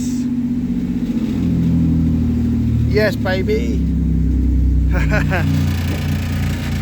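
A car engine cranks and catches, then runs with a steady noisy idle and low rumble through the clip while a person cheers and others speak over it.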